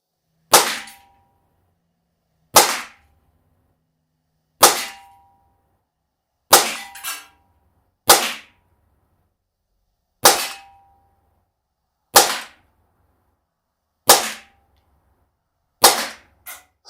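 A CO2 blowback BB pistol, a P365, fires at a target in an outdoor field test: nine sharp, loud, evenly spaced cracks about two seconds apart, each with a metallic slide clack and short ring-off, no talk.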